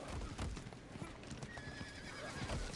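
A horse in the Diablo IV video game neighs while its hooves clip-clop in a steady galloping rhythm, heard close and moderately loud against faint game ambience.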